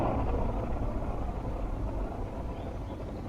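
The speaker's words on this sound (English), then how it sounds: "the last sound I used was the scraping of the corrugated plastic tubing, and I reversed that sound and put a chorus effect on it" Scraping of corrugated plastic tubing, played in reverse with a chorus effect, comes out as a dense, low, continuous rumbling wash like distant thunder, steady and unbroken throughout.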